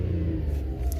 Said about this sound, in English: So I'm just going to rev it.